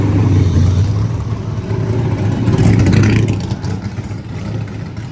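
A NASCAR race car at a motorsports museum show of original and restored cars, its engine rumbling loudly up close, swelling and then easing back off.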